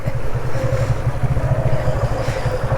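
A boat's engine rumbles steadily while water churns and splashes against the hull, a continuous close wash with no voices.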